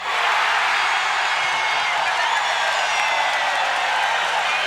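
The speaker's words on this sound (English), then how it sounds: "Listen to this crowd." A 1989 preseason NBA arena crowd at an Orlando Magic versus Detroit Pistons game cheers wildly, a loud, dense, unbroken roar filling the whole stretch.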